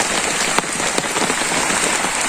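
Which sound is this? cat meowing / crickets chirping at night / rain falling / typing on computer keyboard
rain falling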